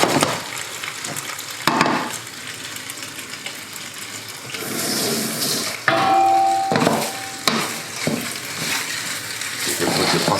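Onions fry and brown in a pan for rigatoni arrabbiata, giving a steady close sizzle with a few brief stirring scrapes and clatters.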